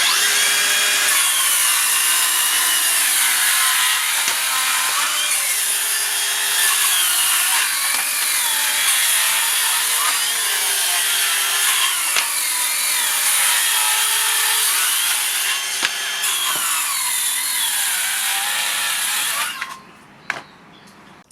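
Makita cordless 6.5-inch circular saws, 40V and 18V models, cut through wood in a loud, steady whining rip that grinds on for about twenty seconds before stopping abruptly.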